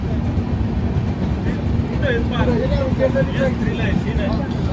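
A passenger train rounding a curve on the way to Pune: a loud, steady rumble of running carriages fills the whole stretch while people talk over it.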